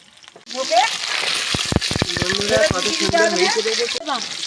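Pieces of snakehead fish frying in a pan, a loud, close crackling sizzle that swells after a quiet start, with sharp pops and stirring clatter while a person talks over it.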